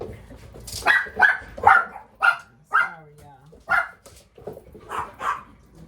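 Several dogs bark repeatedly at an uneven rhythm in a home, loud and fairly close, with a few yips mixed in.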